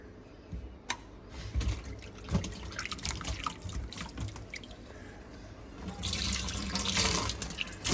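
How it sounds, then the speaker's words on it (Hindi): Water runs steadily from a kitchen tap into a sink in a home, a continuous splashing hiss with small drips and clatters that swells louder toward the end. No voices are heard. "थोड़ी देर चलने दो टूटी"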